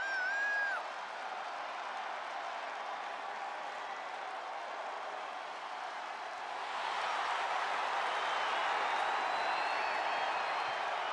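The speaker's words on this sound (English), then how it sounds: "Listen to this ovation." Steady, loud arena crowd ovation from the virtual WWE Universe in the wrestling video game WWE 2K23, cheering for Bianca Belair, swelling a little louder after the first several seconds and sustained throughout with no talk.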